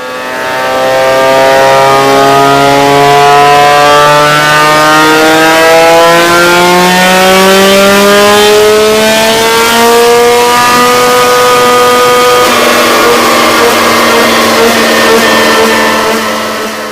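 A nitro RC race car engine revs up and down in long sweeping pitch rises and falls, loud and continuous, with a high buzzy whine.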